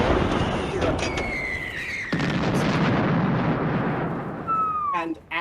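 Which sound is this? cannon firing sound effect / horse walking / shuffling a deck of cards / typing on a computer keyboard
cannon firing sound effect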